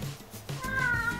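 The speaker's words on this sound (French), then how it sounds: "Regardez-moi ce gros chat." A big pet cat named Bambou gives a single drawn-out meow, close and clear, rising partway through a brief moment in a quiet room.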